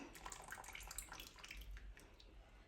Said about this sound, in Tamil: தேங்காய் பால் விட போகிறோம் தேங்காய் பால் விடுறேன்